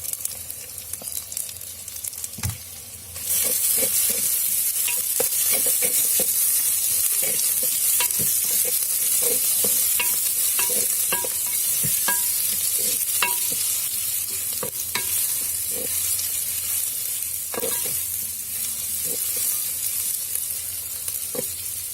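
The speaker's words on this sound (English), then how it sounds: "So we'll cook the onions till it turns about golden brown." Onions fry in an earthen pot for a brinjal tomato curry, a steady loud sizzle running throughout with repeated scraping stir strokes and small knocks, close and without any voices.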